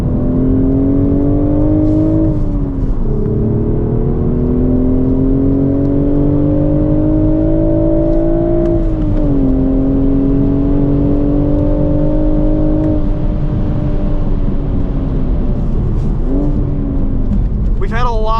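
A 2025 BMW Z4 M40i with a six-speed manual gearbox on a racetrack, its engine pulling loud and steady from close by, the pitch climbing under load and dropping with sharp rev blips through several downshifts.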